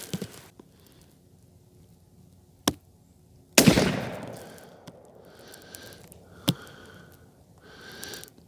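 A Weatherby Model 307 rifle fires one loud, sharp shot at an outdoor range, its report decaying over about a second, followed by softer clicks and handling sounds of the action.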